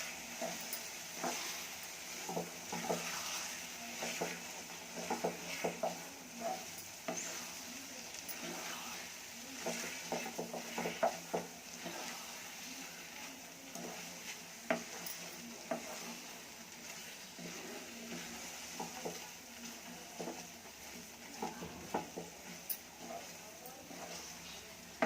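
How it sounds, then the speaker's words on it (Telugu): Kesari bath being stirred in a pan, with soft repeated scraping strokes and a faint sizzle running throughout the whole stretch, quiet and close. "వేసి బాగా తిప్పాలి."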